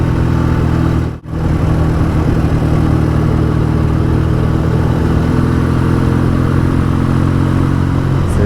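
A BSA A10 650 Super Rocket motorcycle engine, a 650 cc twin, drones loudly and steadily while riding, with a brief dip near the start and continuous wind and road noise, no talking.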